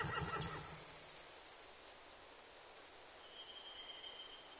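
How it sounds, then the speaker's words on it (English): In The Walking Dead video game, a horse whinnies briefly at the start, then a quiet, steady background hiss continues with a faint high tone near the end. "They have horses."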